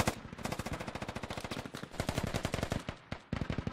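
Rapid, sustained automatic gunfire in the tactical shooter Squad, dense bursts of shots cracking one after another with brief gaps, loud and continuous throughout.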